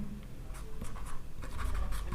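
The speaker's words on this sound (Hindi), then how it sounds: "सबसे पहले मैं यहाँ पे इसके इम्पोर्टेंट रूल्स लिखता हूँ" Chalk or marker strokes scratching across a classroom board as rules are written, short bursts of scraping in quick succession, close and fairly quiet, no talking.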